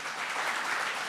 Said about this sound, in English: Seven people clap.